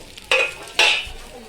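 Chicken kaul fry being reheated in a pan gives two brief, close bursts of stirring and sizzling about half a second apart, with quiet between them.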